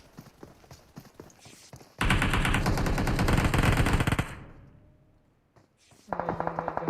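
Rapid automatic gunfire from PUBG Mobile bursts in loud and dense for about two seconds, then fades. A second, nearer stream of quick shots starts near the end. A quiet voice talks faintly before the firing.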